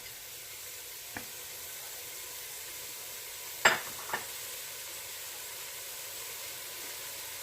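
A pound of lean beef stew meat, cut into small chunks, sizzles faintly in a pan as a soft steady hiss, broken by a couple of brief clicks and scrapes near the middle.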